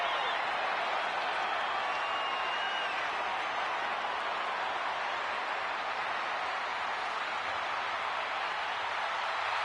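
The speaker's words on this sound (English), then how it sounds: "The crowd is into this guy, man." A wrestling arena crowd in the WWE 2K video game cheers and applauds in one dense, unbroken wash of noise that holds at an even level from start to finish.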